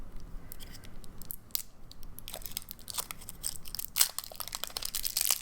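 Scissors snipping open washi tape packaging, a string of close, crisp cuts and crinkling plastic crackles that grow busier toward the end, with no talking.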